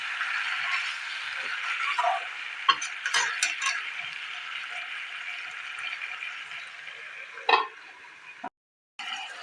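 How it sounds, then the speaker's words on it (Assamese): Chicken masala frying in a covered pan over a medium flame gives a soft, steady sizzle, with occasional clicks and scrapes from stirring and the lid, close and fairly quiet. "মিডিয়াম ফ্লেমত ভালদৰে ভাজি ল'ম।"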